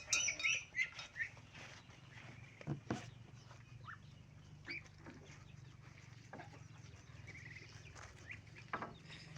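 Chickens and ducks on a rural farm cluck and flutter faintly at a distance over a steady low background hum, with scattered short calls and wing flaps throughout.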